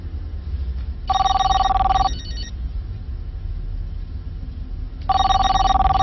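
A telephone bell rings in two bursts, about a second each with a pause between, fairly loud over a low background hum.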